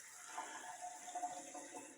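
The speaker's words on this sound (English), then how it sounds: "We have running water in the bathroom?" A bathroom tap runs in an old hospital building with active utilities, a faint, steady hiss of water with slight splashing fluctuations, alone and distant.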